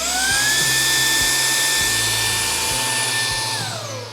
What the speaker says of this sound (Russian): запускается пылесос. И выключается не сразу, чтобы остаток грязи, продуктов бурения высосать.